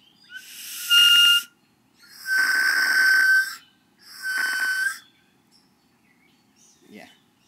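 A ceramic death whistle with an aged, weathered Tomoku finish is blown in three loud, breathy, shrieking blasts, the middle one longest, with short silences between them and no talking.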